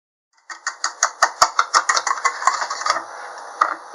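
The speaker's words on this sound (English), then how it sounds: "combine together the sugar, instant coffee, and cocoa powder. Whisk until all of the grains are smooth." A whisk beats sugar, instant coffee and cocoa powder together in a bowl, making a close, rapid run of rhythmic scraping clicks that gradually slow and soften.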